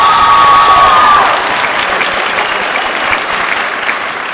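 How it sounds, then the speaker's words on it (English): At a high school winter chorus concert, a large audience breaks into loud, sustained applause, a dense rush of clapping with faint cheering mixed in that eases slightly after the first second and carries on evenly. "On a huge round of applause."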